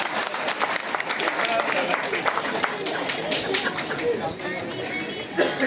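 Lively crowd applause at a retirement function for an RTC bus conductor, brisk clapping running the whole time, mixed with chatter and voices from the gathering.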